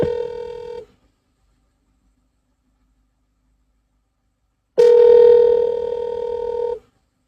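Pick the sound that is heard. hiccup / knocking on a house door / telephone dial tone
telephone dial tone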